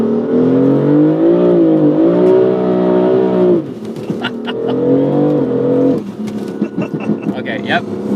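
A BMW M4 Convertible launches with traction control off on a wet road, its engine revving in a loud, rising drone that steps up through gear shifts, with people talking inside the car.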